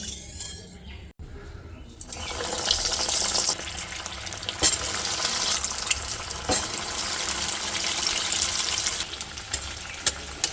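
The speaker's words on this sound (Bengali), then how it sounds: "এগুলোকে ডিপ ফ্রাই করে নেব বেশ সুন্দর করে তেলও গরম হয়ে গেছে" Chicken fingers drop into hot oil for deep frying, setting off a loud, steady bubbling sizzle that holds for several seconds, with occasional clinks nearby.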